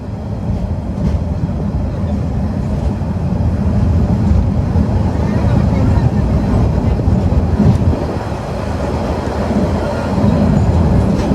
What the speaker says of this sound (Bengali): এখন ডিপার্চার নিচ্ছি ইসলামাবাদ রেলওয়ে স্টেশন থেকে